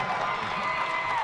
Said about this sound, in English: the fans are making some noise now